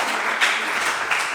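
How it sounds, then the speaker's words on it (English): An audience at a coding bootcamp demo day in Milan applauds the students, a brief, dense burst of steady clapping with no voices. "So a big applause to our students"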